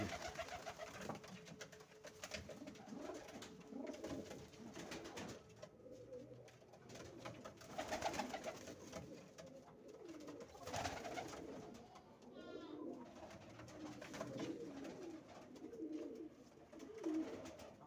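Broad-tailed fighting pigeons coo repeatedly in soft, rolling bursts, with fluttering and a busy background of other birds close by.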